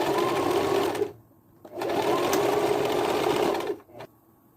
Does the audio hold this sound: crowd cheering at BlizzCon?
no